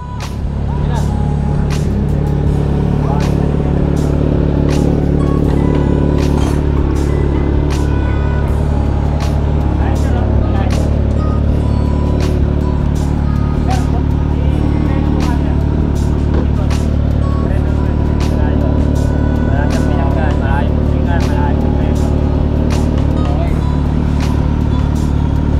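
Kawasaki Z900 motorcycle with a Long AR muffler riding by, a loud steady engine drone holding throughout with faint mechanical clicks on top.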